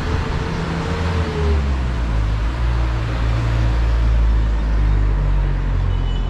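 An old clunky Metropolitan city bus rumbles past in heavy Bangkok traffic, a loud low engine drone with steady road noise throughout.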